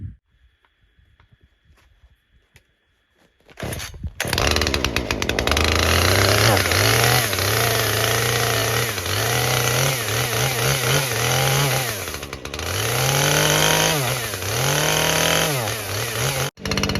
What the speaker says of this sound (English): I brought the chainsaw inside this morning so that it warms up